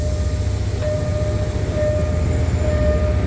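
Local train rolling through the Phaya Thai area of Bangkok, heard from inside a non-air-conditioned carriage: a steady low rumble with a faint high tonal whine, continuous and fairly loud throughout.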